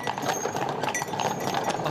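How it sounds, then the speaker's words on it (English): Hooves of a horse drawing a hearse in a candlelight procession through the streets of Halifax, a steady clip-clop under a wash of crowd and street noise. "A horse-drawn hearse led a candlelight procession through the streets of Halifax."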